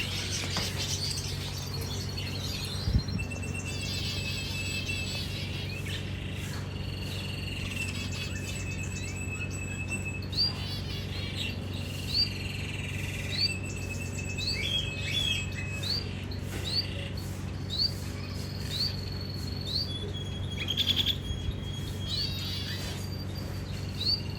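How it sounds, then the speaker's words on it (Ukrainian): Rosella parrots whistle and chirp in short melodic calls, scattered over a steady low hum, moderately near and fairly quiet throughout. "розела красивые звуки издают. Они красиво поют, как канарейка."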